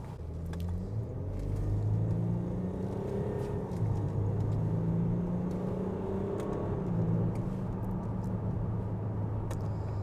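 A 2018 Land Rover Discovery HSE Luxury TD6 turbo diesel in sport mode accelerates hard, its engine note climbing in steady pitch sweeps through the gears over a constant low road rumble and cabin drone, heard from inside.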